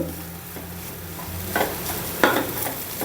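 Raw banana slices fry in a pan with a soft continuous sizzle while a spoon stirs them, giving a few louder scraping strokes near the end.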